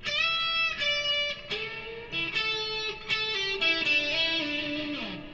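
Distorted electric guitar playing a run of solo phrases, quick picked notes and slides in a steady flowing line, loud and close with no voices.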